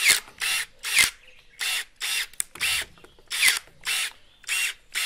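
KOMOK professional electric pruning shears make cut after cut. About ten short bursts of whirring motor and snapping blades follow one another in a quick, even rhythm, close and clear.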